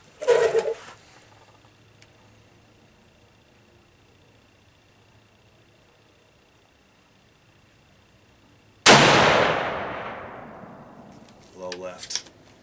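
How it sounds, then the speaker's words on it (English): Savage Axis .308 bolt-action rifle with a Leupold scope fired at a 200-yard range: one sharp, loud shot at the start, a long quiet pause, then a second booming report with a long decaying tail, followed by a faint thump. "3 more shots."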